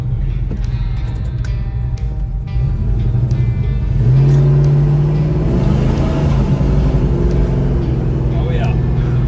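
A 1972 Plymouth Duster 340 rumbles loudly from inside the cabin while cruising, its V8 swelling as it accelerates midway, with someone talking over the engine.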